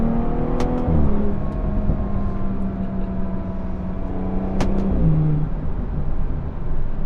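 A BMW F30 340i fitted with an AWE touring exhaust accelerates hard, its engine note climbing through two gear pulls with brief crackles at each shift, loud and close.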